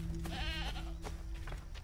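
A sheep in the Assassin's Creed 3 video game lets out one close, wavering bleat, then a shorter second one, heard over game ambience and a low steady background hum.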